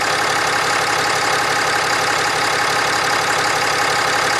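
A Cummins diesel engine with a charging fault runs steadily nearby, a loud, even drone with no talk.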